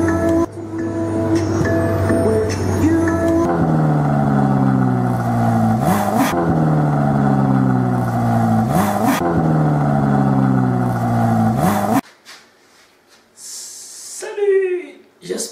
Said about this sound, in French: Je vous emmène faire un tour de Ferrari.